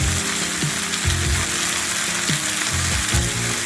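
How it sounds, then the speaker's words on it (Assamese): Chicken fries in a pan, Assamese style, giving a constant loud sizzle, while a spoon scrapes and stirs against the metal in repeated strokes. "ঢাকনি পিছাই এনেকৈ লৰাই ভাজি থাকিব লাগিব"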